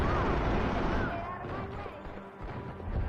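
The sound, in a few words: grenade explosions in Max Payne 3 video game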